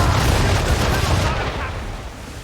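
Cannon fire from sailing warships in the video game Assassin's Creed 3, heard as a dense, loud roll of overlapping booms that fades slightly toward the end.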